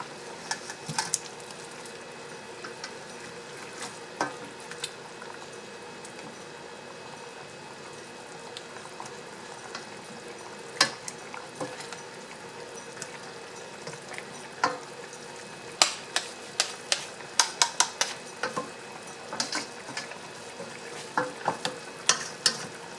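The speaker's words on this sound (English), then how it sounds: "Let's go ahead and mix it." Spanish rice with chicken, smoked sausage and shrimp being stirred in a pan, a soft bubbling and simmering bed broken by sharp spoon clacks and scrapes that grow busier and louder toward the end.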